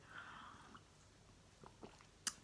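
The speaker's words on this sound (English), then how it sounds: "they're crunching on their bickies now" Pets crunch on dry biscuits nearby. The crunches are faint and irregular, set against a quiet indoor background, with one sharper click near the end.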